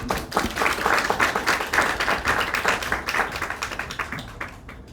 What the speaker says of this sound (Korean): 우리 환영하는 의미로 크게 박수를 하겠습니다. 우리 손화철 교수님.